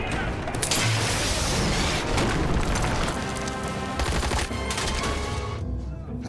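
Sustained bursts of automatic gunfire and heavy booms fill a police shootout scene in the Gotham TV series, loud and dense throughout, with shouted voices mixed in.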